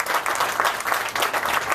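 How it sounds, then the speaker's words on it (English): Applause from an audience at an outdoor groundbreaking ceremony for the North Rampart streetcar line in New Orleans, a steady dense wash of many hands clapping at moderate volume, with no talking. "So if y'all would give them a round of applause, I would appreciate it."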